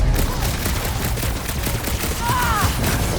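Gunfire from a blaster in the Guardians of the Galaxy video game, a dense, continuous volley of shots over a busy battle din, with a brief whooshing sweep near the end and a voice speaking underneath.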